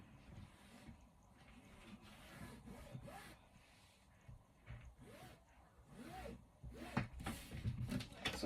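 Scissors cutting through aso oke fabric for a bubu kaftan dress, giving soft rasping snips and rustling in irregular bursts, fairly close and quiet, with no talking.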